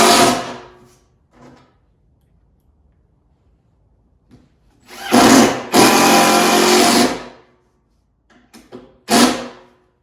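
A power drill drives screws into the corners of a wooden cabinet frame for a paint and stain cabinet. Several short loud motor bursts of varying length are separated by pauses, close by with no voices.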